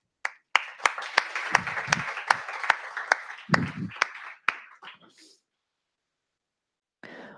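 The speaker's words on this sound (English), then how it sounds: "please applaud yourself" A short round of sharp audience hand claps at a steady pace during a JavaScript lecture, fairly close, fading out after a few seconds.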